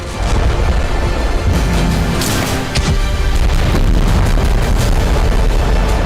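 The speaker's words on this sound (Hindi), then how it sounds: "रूसी सेना की आर्टिलरी की ताकत का अंदाजा इन धमाकों से" Russian army artillery explosions: a dense, continuous barrage of loud, heavy booms and rumbling blasts that overlap and leave no quiet gaps between them.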